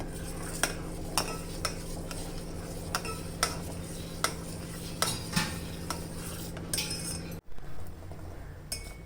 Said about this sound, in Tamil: அப்படியே கிளறிட்டு வைக்கலாம்